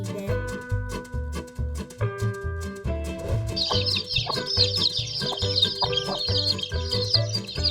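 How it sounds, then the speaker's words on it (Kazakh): A cartoon chick peeps in repeated short, high chirps over bright, looping children's music, with the music carrying on steadily underneath. "Балапан пи-пи, пи-пи, пи-пи дейді."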